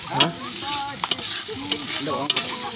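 Desi chicken fries in a pan in a West Bengal village kitchen while a spoon stirs it, giving steady sizzling with repeated scraping strokes against the pan, close and fairly loud.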